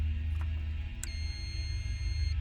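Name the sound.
hotel keycard reader denial beep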